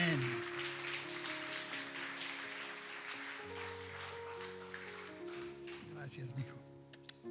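Congregation at a church service applauding for the Lord, a steady dense wash of clapping that fills the clip at moderate level, with sustained organ or keyboard tones and voices running beneath it.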